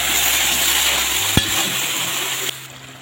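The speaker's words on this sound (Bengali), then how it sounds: "মশলাটা চুমে যাচ্ছে, একটু জল দেব।" Cabbage boiling water splashes into hot sizzling masala with ginger paste, and a spoon stirs it. The frying hiss runs steadily, broken by one sharp clack near the middle and a shift to a duller bubbling toward the end.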